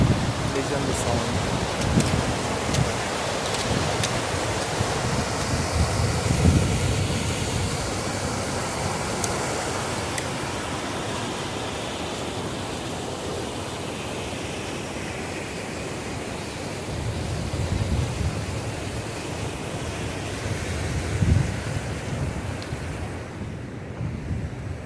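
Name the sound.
rushing river water flow on Himalayan trek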